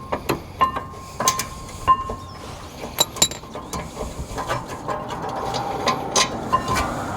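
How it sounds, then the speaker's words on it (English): Ratchet work on the rear brake caliper bolts of a Nissan 350Z, sharp metallic clicks and clunks in an uneven series, with steadier ratcheting toward the end, close and fairly loud. "now let's go ahead and crack these 22mm bolts back here"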